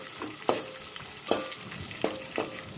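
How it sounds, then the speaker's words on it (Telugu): Spices for a tempering crackle in hot oil, a soft continuous sizzle broken by four crisp metallic clinks of a stirring spoon against the pan, close up and with no talking. "ఇక్కడ వచ్చేసరికి తాలింపు అయితే వేసేసుకుంటున్నాను"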